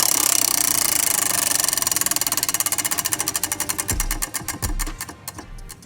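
A random object prize wheel spins down from a rapid ratcheting clatter, its clicks spreading out into slower, separate ticks before it stops with a few last knocks.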